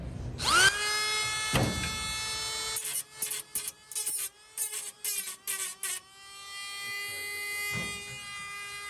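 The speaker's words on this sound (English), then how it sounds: "I'm gonna use it to kind of hold the clip up while I use the Dremel." A Dremel rotary tool grinds the clip of an old barn-sale tool box drawer, a loud high whine that rises at the start, then stutters in short bursts as it bites before settling into a steady run.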